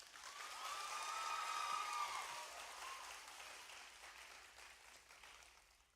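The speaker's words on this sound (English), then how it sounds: "let's all give them a round of applause" Audience applause at a graduation ceremony, a broad wash of many hands clapping that swells early, peaks around two seconds, then slowly thins and fades toward the end, heard alone without talk.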